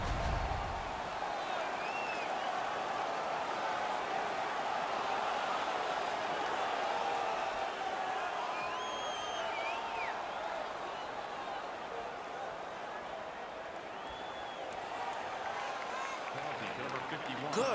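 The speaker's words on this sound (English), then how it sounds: "The crowd is now back in it." Hockey crowd in an ECHL arena roaring steadily after the home team wins a fight, a broad sustained wash of cheering and applause from start to finish, with a play-by-play voice running over it.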